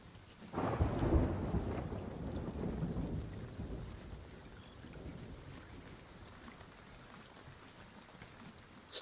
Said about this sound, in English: This damn lightning's gonna make me eat again.